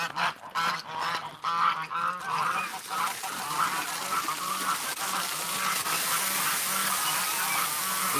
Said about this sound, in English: we just missed a big goose fight